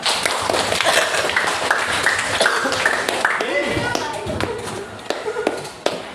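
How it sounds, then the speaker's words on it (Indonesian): Schoolchildren clap their hands together in a classroom, a brisk run of taps and claps that fades toward scattered single claps near the end, with voices mixed in throughout. "oke, tepuk tangan semua."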